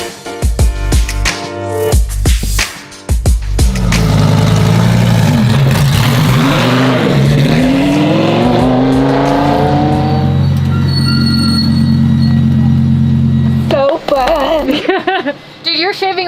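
Lamborghini Super Trofeo race car engine at Buttonwillow Raceway, a loud, sustained engine roar that climbs and shifts in pitch through the middle of the run, with a steady high-revving drone toward the end and speech-like sounds at the edges.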